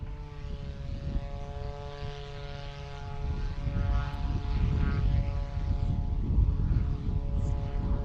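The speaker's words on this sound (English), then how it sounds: "So they're going to take off from halfway up 36 right." A cargo airplane taking off from halfway up runway 36 right at a busy cargo airport, its propeller drone humming steadily from a distance and swelling louder as it powers up.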